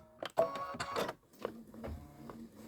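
A Kimberbell embroidery machine stitching a quilt design on a cup project, giving a short burst of mechanical whirring and needle clatter in uneven pulses, fairly close.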